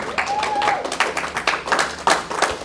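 Worshippers in a church congregation clap for Jesus, a lively, uneven patter of hands with distinct sharper claps standing out, joined by a brief voice or cheer near the start.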